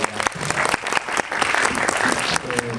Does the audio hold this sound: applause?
yes